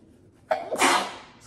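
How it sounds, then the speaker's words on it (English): A single sneeze from a person with allergies: a short sharp inhale, then a loud, breathy burst close to the mic that trails off quickly. "my nose is wanting to sneeze"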